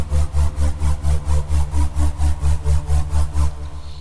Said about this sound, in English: very reverberant downer. I sent it to Valhalla Vintage Verb, which I EQ'd